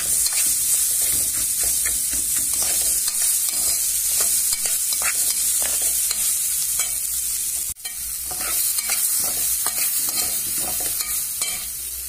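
Onion and garlic sizzle steadily in a pot with orzo pasta while a spoon stirs and scrapes through them with repeated soft clicks, close and continuous with no talking.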